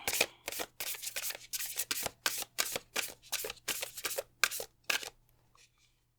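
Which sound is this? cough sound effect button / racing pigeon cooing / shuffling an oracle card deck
shuffling an oracle card deck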